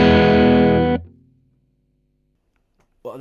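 An electric guitar played through a tube amp with overdrive gain at 4 sounds a gritty, distorted chord that rings briefly, then fades into silence before a voice begins talking.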